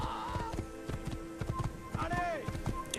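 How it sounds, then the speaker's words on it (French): A horse gallops in Assassin's Creed with fast, steady clip-clop hoofbeats close up, mixed with other game sounds and brief tonal effects. "Il faut galoper le plus qu'on peut."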